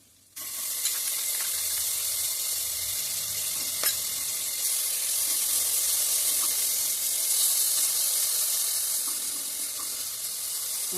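Ginger garlic paste fries in a pan for coconut pulao, giving a loud, steady sizzle that starts abruptly and continues without a break.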